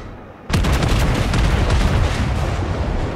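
The Warspite battleship's main guns fire in World of Warships, bursting suddenly into a loud, heavy boom after a brief quiet and rolling on in a sustained thunderous rumble.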